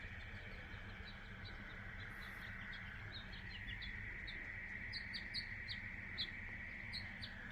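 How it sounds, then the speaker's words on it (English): Tree sparrows chirp in short repeated bursts near a pasture, over a steady low rumble and a constant high hiss, with no talk. "Right now we got tree sparrows."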